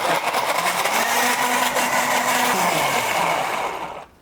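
A blender purees dates with an equal weight of water, a loud steady whirring motor that runs continuously and winds down near the end.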